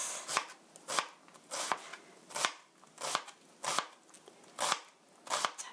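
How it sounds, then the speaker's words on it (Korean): A knife minces ingredients on a cutting board for a tomato sauce, striking in quick bursts of rapid chops about twice a second, crisp and close. "다져주시고요"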